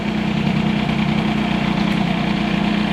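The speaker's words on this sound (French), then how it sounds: "si je la laisse tourner là, c'est possible que le moteur fasse comme d'habitude, hein, le régime va tomber" A Peugeot 103 moped fitted with an Airsal 65 kit idles close by, its small two-stroke engine holding a steady, loud buzzing drone with constant vibration and no pauses.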